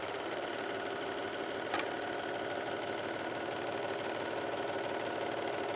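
An overlocker sewing machine hums steadily with the pedal pressed, running continuously at moderate volume with an even mechanical whir and a single faint click partway through.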